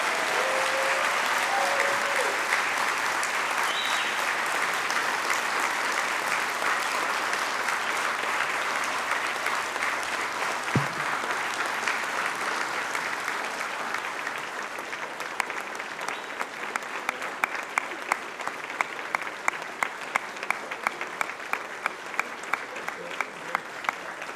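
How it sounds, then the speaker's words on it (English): A large banquet crowd at the 2018 Mt. SAC Athletics Hall of Fame gives sustained, loud applause that gradually thins into scattered individual claps toward the end. "Please give them a round of applause"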